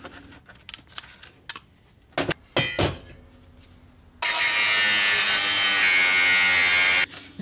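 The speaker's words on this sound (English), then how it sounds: "little angle grinder action, will get us these steel handles, leaving it clean" A small angle grinder cuts the steel handles off an Instant Pot. A few clanks and knocks of handling come first, then a loud, close, continuous grinding whine runs for about three seconds and stops abruptly.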